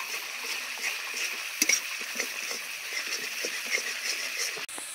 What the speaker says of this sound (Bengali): দইটা দিয়ে কষাতে কষাতে দিয়ে দিচ্ছি এখানে সিদ্ধ করে রেখে দেওয়া ছোলা।